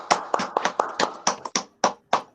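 A handful of scattered hand claps at an online group meeting, about ten sharp, uneven slaps over a couple of seconds, close and fairly loud, with no talking.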